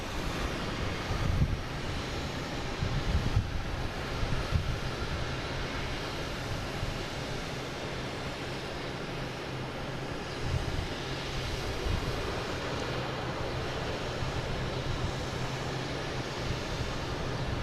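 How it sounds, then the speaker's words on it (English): A United Airlines Airbus A321neo jet airliner at Boston Logan airport gives a broad, steady roar that rises and falls for a long stretch, with gusty wind buffeting the microphone and no talking. "We have a United Airlines heading to Denver, an A321neo"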